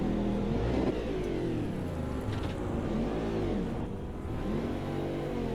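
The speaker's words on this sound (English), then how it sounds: "we'll just watch these cars go past" Race cars passing the pit lane in Automobilista 2, several engines rising and falling in pitch as they sweep by one after another, loud and close with no voices.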